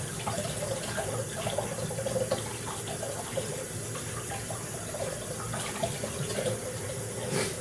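A detachable part of a UBEGOOD blender is set into water. The water runs and splashes softly and steadily, like a tap over a sink, faint and without talk.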